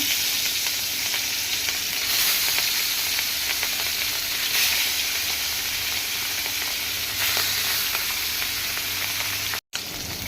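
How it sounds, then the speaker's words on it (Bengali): Rohu fish frying in hot oil, a steady close sizzle with crackling hiss that runs evenly, dipping to a brief near-silence just before the end. "তেল গরম হয়ে গেছে, এখন আমি মাছটা দিয়ে দিচ্ছি"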